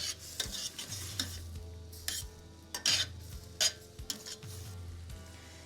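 Savoy cabbage being stirred in a pan as balsamic vinegar and butter glaze it, with a soft sizzle under repeated scraping strokes and light clinks of a utensil on the pan, close up.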